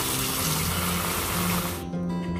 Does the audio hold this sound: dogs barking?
no